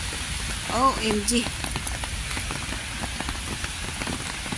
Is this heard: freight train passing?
no